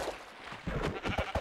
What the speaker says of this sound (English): Oh, yay, my last sheep.